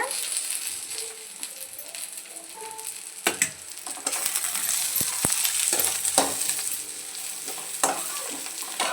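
Spices and tomato fry in hot oil for an egg and chicken sambar, with a continuous close sizzle, a few sharp clinks of a spoon against the pan, and scraping as the mixture is stirred.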